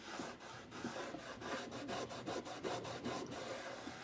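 A cloth wipes across a wooden drawer with alcohol, making faint, rhythmic rubbing strokes repeated steadily at close range, with no talking.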